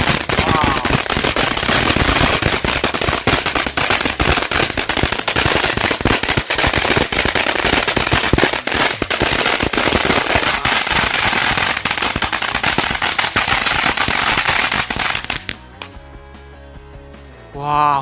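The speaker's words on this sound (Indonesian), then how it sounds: "yang selanjutnya kita nyalain mercon air mancur lentera" A lantern fountain firecracker crackles and pops in a dense, loud, continuous rapid burst for about fifteen seconds, then cuts off into quieter background.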